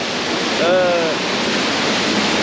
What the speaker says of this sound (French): un bourdonnement là, de bruit d'eau